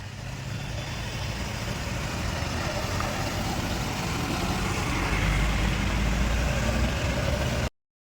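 Vehicles, cars and heavier trucks, driving slowly along a damaged, smoky service road, a continuous loud engine and road rumble that builds slightly before cutting off abruptly.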